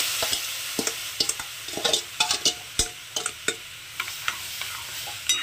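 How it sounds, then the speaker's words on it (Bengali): Raw green mango mixed with sugar is stirred in a hot wok, with a soft steady sizzle under repeated scraping and clinking strokes of a spatula. The sounds are close and there is no talk. "ওই একই কড়াইয়ের মধ্যে আমি যে আমটাকে চিনির সঙ্গে মিশিয়ে রেখেছিলাম সেটাকে দিয়ে দিচ্ছি"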